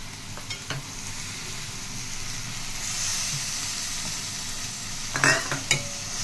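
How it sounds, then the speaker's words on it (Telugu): Mutton curry with cucumber frying and being stirred in a pan, a steady close sizzle throughout, with a few scraping clinks of the spoon against the pan near the start and end. "ఇప్పుడైతే మటన్ కూడా వేసేసుకున్నాక మొత్తం ఒకసారి కలిపేసుకుందాం."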